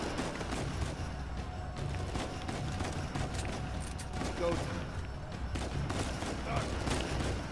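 Gunfire in the video game Uncharted 4 during a prison break sequence, sustained bursts of shots crackling continuously across the whole stretch under a dense game soundscape, with a player talking over it.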